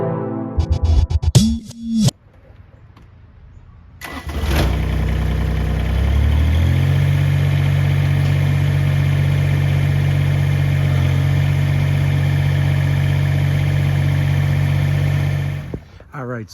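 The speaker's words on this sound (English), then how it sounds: "I'm going to hop on the tractor right now and show you guys how quick and easy it is to take it off." A Kubota BX6315 compact tractor engine starts after some brief clatter and then idles steadily, with a loud, even mid-pitched drone held close by for about ten seconds before cutting off; no one speaks.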